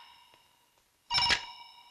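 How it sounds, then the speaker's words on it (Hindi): A telephone rings once at a police station, a brief loud electronic trill bursting out after near silence with a faint earlier chirp, close by, no talk over it. "साहब वो शंकर कलाल का ही फोन था"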